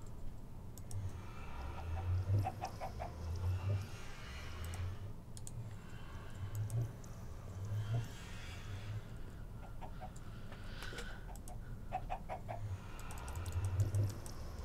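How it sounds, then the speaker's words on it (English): Chickens in the Minecraft video game cluck repeatedly at an even, soft level over a quiet low hum, with faint clicking and keyboard-like taps scattered through. "I'm not too worried about the chickens going to the nether because it's a very small room on the other side."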